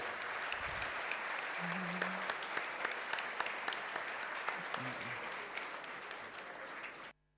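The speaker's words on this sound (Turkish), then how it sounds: "Nando'ya da kuvvetli bir alkış" Sustained, dense applause from a large audience at an evening gala honouring Galatasaray's legendary captain Nando, steady throughout with sharp individual claps poking through, ending abruptly.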